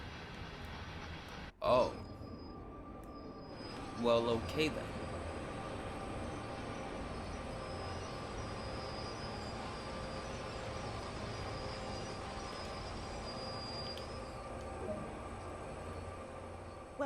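A long freight train in Train Sim World 2 on Sherman Hill grinds to a stop, with a steady low rumble and a couple of brief loud bursts near the start as someone speaks briefly.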